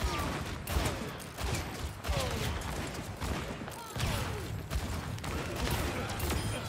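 Rapid gunfire bursts from the video game Overwatch 2, repeating through a continuous busy mix of in-game combat sounds.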